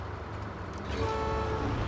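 Recovery tow truck in the SnowRunner video game sounding a brief steady horn tone in the second half, over a low rumbling engine.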